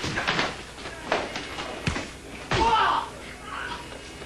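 A fridge door is banged repeatedly against a stuntman's head during a film stunt, giving several sharp slams and thuds in quick succession, with shouting voices around them.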